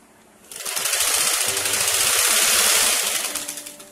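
A sewing machine stitching a chudidar neck piece runs in a loud, steady rapid whir with a fine rattling beat, starting after a short quiet moment and slowing slightly near the end, close by.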